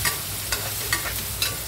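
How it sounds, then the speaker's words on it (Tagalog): Garlic and red onion sizzle in a hot pan while being stirred, a steady close frying hiss broken by a few quick scraping stirs, with no voices. "Kailangan halo-haloin hanggang lumabas yung amoy niya."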